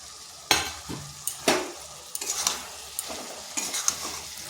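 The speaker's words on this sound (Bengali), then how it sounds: "আলু সয়াবিন খুব ভালোভাবে মশলার মধ্যে মিশিয়ে নিচ্ছি।" Potato and soybean chunks stirred into spice masala frying in oil in a kadai: steady sizzling broken by scraping utensil strokes and clanks against the pan, close and fairly loud.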